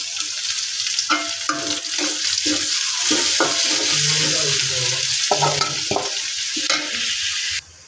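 Chopped onion fries in a generous amount of oil, a loud steady sizzle with repeated stirring scrapes and clatters running throughout before cutting off near the end.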